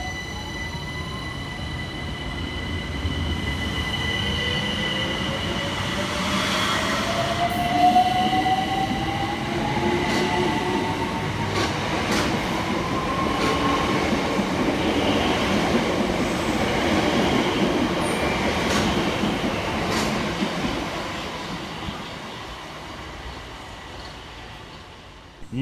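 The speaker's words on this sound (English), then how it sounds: "Next to depart from the station is 376006 and 376002, working the 1851 Southeastern service from Hayes through to London Charing Cross." Two coupled Southeastern Class 376 electric units pull out of a station on the Hayes line, with a rising motor whine, wheels clattering over rail joints and occasional squeals, building and then fading over a long, steady run.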